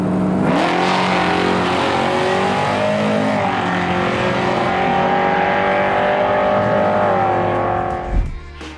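Early-1970s Ford Falcon GT V8 engine revving hard, a loud sustained roar climbing steadily in pitch toward high revs before cutting off abruptly near the end.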